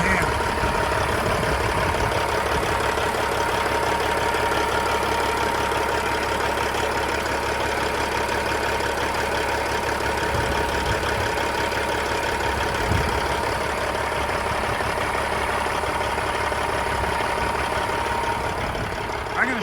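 1999 Freightliner FLD120 truck with a rebuilt CAT 3406E diesel idles in a steady, even low rumble with a faint knock, heard close up while a person talks over it.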